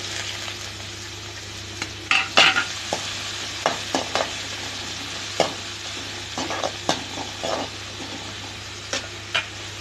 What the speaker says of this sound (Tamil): கட் பண்ணி வச்ச சின்ன வெங்காயத்தை போட்டுக்கலாம்